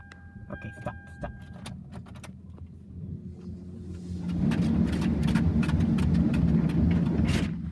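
An Istobal MNEX 22 rollover car wash at an Ultramar gas station scrubs a car's tires under tri-foam. A steady mechanical hum gives way midway to louder, continuous spraying and brushing that fills the space.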